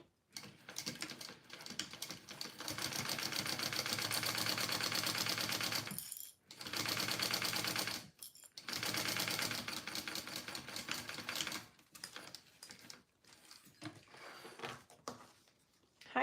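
A sewing machine stitches a crossbody bag in long, steady runs, with two brief pauses near the middle and a choppier stretch of shorter bursts toward the end.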